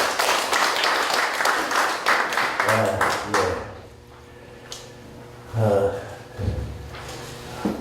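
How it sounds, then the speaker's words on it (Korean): Audience applause welcoming a lecturer at a Korean church pilgrimage guide training session, a burst of dense clapping that fades after a few seconds, followed by a few scattered claps and handling thumps nearby. "박수로 환영하겠습니다"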